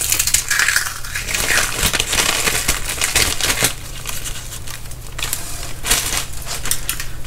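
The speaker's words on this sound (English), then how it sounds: "if you can crush it up in your hand that makes the crackling noise, it's done" Dry, brittle crackling and crunching as dehydrated sloppy joe mix is crushed by hand, continuous small snaps and crinkles close up.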